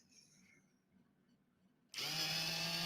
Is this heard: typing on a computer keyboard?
no